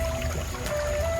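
Water runs quietly and continuously under a faint steady background hum, with no voices.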